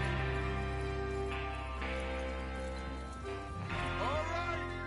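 Horses clip-clopping and running in the western game Red Dead Redemption, hoof beats under a mix of voices and game sounds, with a brief whinny-like rising tone near the end.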